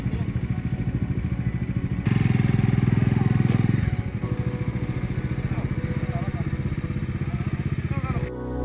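A motorcycle on the sand at Thotlakonda Beach near Vizag runs close by with a pulsing engine, revving harder for a couple of seconds before settling back to a throbbing idle, while voices are heard nearby.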